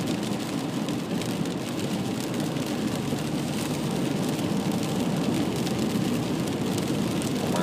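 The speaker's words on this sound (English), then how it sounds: "There is rain, you know, you can hear it." Steady rain falling outdoors, a dense, continuous hiss of drops with a low rumbling undertone, even in level throughout, with no voices.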